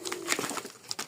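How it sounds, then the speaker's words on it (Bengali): Pigeons of a running lokkha breed cooing and calling softly at moderate distance, a few brief bursts with short pauses between. "এমনি কবুতর ডাকবে"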